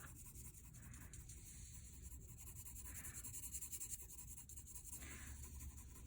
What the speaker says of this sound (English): I'm going to use number 2 pencil and pretty much gradient all this out